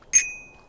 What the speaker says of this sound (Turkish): bisikletin zilini çalabiliyorsun orada galiba